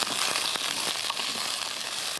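Onions, beans and carrots sizzle steadily in a pan while being stirred, a continuous close frying hiss with a few soft scraping knocks and no talking.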